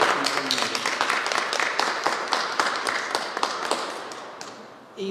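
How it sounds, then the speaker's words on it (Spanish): A church congregation applauding at a Mass for the dead and the sick, brisk clapping from a modest group that swells and then fades out by the end, heard up close. "Un aplauso para los compañeros."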